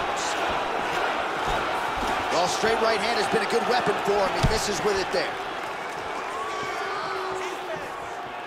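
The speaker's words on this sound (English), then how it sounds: "you hear the crowd react every time they come together" Arena crowd noise from a UFC video game bout between Jon Jones and Kratos, a steady roar with brief swells as strikes land, running under continuous commentary from a male announcer.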